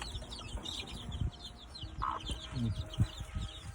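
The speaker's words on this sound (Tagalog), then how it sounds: "Ito ang mga sisiw ko, yan." Hens and chicks on a farm, with repeated low clucks from the hens mixed with high, rapid peeping from many chicks, close by and fairly busy against an outdoor background.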